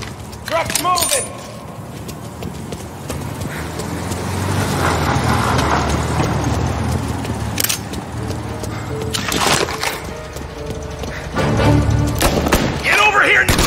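A truck in Mafia: Definitive Edition rumbles and drives off, a sustained engine and road roar rising under shouted voices, with clanks and thuds scattered through it.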